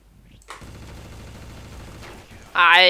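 Gunfire in Counter-Strike: Source, a rapid burst of shots at moderate distance followed by a sharper, louder shot at the end, with no talking during the clip.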